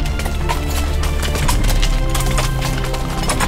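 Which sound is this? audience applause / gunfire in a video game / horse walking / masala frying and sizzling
horse walking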